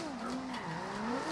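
A car drifting in second gear in the video game Forza Horizon 2 sends out a continuous tire squeal with a wavering, sweeping pitch over engine noise, fairly faint and without talk.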